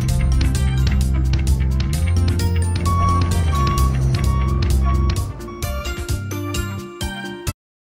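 A dump truck reverses with a repeating electronic backup beep over its running engine, close and loud, the beeping continuing in a steady rhythm before the sound stops abruptly.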